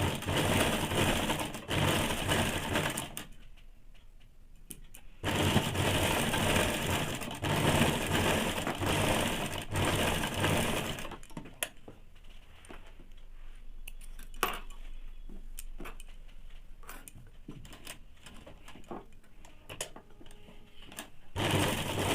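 A sewing machine runs in long stitching bursts on a saree blouse, a fast, steady mechanical chatter that pauses briefly and then resumes with shorter clicks and taps.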